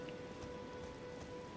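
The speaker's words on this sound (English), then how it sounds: "Oh, I forgot that it rains." Steady rain falls in the video game Elden Ring, an even, continuous hiss of drops with no talking.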